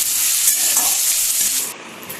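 Potato pieces deep-frying in hot oil without salt give off a steady, close, bright sizzle that fades slightly toward the end.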